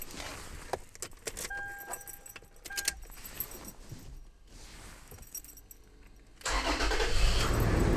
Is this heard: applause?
no